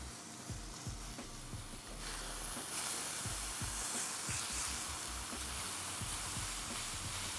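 A burger patty sizzles in a hot pan, a dense steady crackling hiss that swells louder midway as the meat sears, with faint clicks and pops beneath and no talk.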